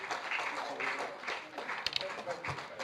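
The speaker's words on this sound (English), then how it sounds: "Let's keep clapping, let's keep clapping, let's keep clapping, let's keep clapping." Audience applause at an award ceremony, a steady wash of many hands clapping that swells and eases, heard under a speaking voice.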